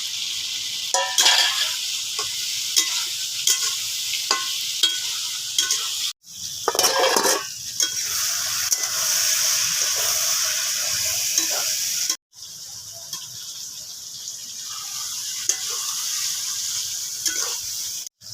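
Potato and elephant foot yam pieces frying in oil with spices, a steady bright sizzle under repeated stirring and scraping, with two brief cuts where the sound drops out before the sizzle resumes.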